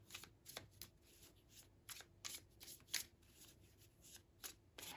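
Tarot cards shuffled by hand in quick, crisp bursts of riffling and sliding, irregular and close, fairly quiet with no talking.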